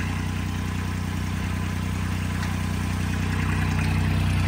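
A Sonalika DI 22 mini tractor fitted with a front loader runs with a steady, close diesel drone and low throb, constant throughout with no talking.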